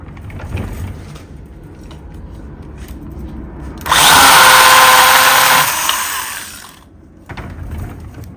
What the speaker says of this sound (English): or even I have a little chainsaw, what we call boys' toys.